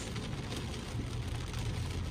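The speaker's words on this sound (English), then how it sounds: "it is like a monsoon. Look at the rain." Heavy monsoon-like rain drumming on a car while driving in England at low speed, a dense continuous roar with road and engine rumble beneath.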